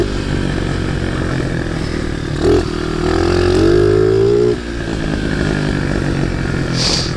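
A small dirt pit bike, running without a front fender, idling and then revving up loud and close. The engine drone climbs in pitch for a couple of seconds before dropping back to a steady idle.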